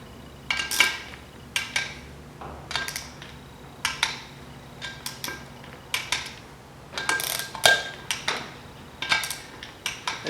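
A torque wrench clicks repeatedly while wheel bolts are tightened to 10 foot-pounds on Polaris Ranger 900 beadlock rims, sharp metallic ratcheting bursts at regular intervals, close and clear with no speech.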